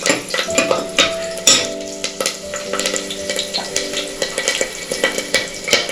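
Cloves, black pepper and chopped chillies are stirred in hot oil in a pressure cooker for vegetable biryani, giving a soft sizzle under repeated rhythmic scrapes and clinks of a spoon against the metal pot.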